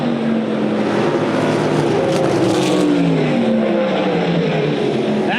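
USAC Silver Crown race cars battle hard off turn two at DuQuoin, Illinois, during the Ted Horn 100, their engines a loud, continuous roar with shifting pitch as the cars pass close by.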